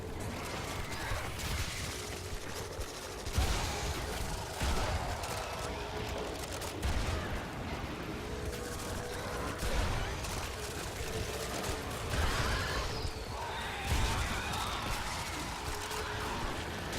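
Hek and Tigris shotguns firing in the video game Warframe, dense loud blasts and mechanical clatter over a busy game-effects background, with a voice talking over it.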